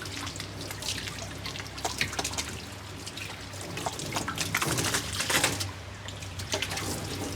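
Water rinsing a fish-rearing container during cleaning and sterilization, heard as a continuous splashing trickle with scattered drips and spatters, fairly close and moderately quiet, with no talking.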